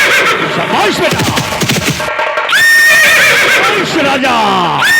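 A loud horse neigh sound effect plays during a nautanki stage show, a long shrill whinny rising over voices and stage noise.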